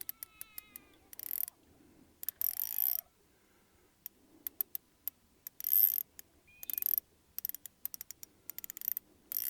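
A fishing reel's drag clicks in quick ratcheting bursts, separated by short silences, as it is adjusted during a fight with a carp at a farm pond.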